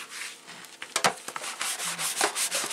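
Cutting board scrubbed by hand while washing dishes, a steady series of close rubbing and scraping strokes with brief knocks, no talk.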